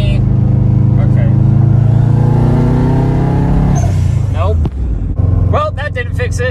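Turbocharged Subaru Forester STI engine pulling hard under acceleration from inside the car, a loud rising drone that climbs through the gear, then drops off before a brief second surge.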